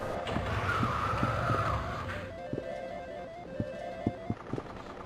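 Racing sounds from a Hang On arcade motorcycle game inside Shenmue, a squealing skid followed by a thin engine tone and a series of short clicks and beeps.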